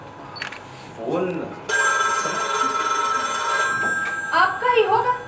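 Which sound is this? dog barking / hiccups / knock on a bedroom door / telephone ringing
telephone ringing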